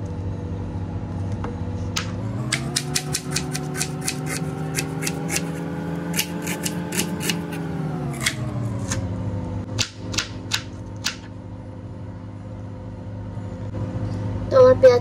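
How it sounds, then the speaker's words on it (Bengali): A knife chops an onion in a home kitchen in quick bursts of crisp taps against a board, over a steady appliance hum with a few pauses between runs. "ততক্ষণে আমি পেঁয়াজটা কেটে নিই"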